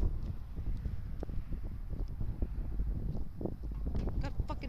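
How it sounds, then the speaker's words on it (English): Wind blows outdoors and buffets the microphone with steady low rumbling gusts. Faint clicks and knocks come through, moderately loud. "it's very windy outside"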